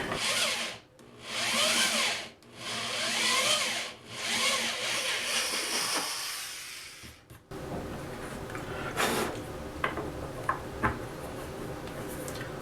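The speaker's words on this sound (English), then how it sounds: "I'm going to use a Forstner bit to drill a recess for the feet" Bursts of a drill with a Forstner bit boring a recess into a wooden live-edge table, several whining runs separated by short pauses, then quieter scraping and tapping of workshop handling.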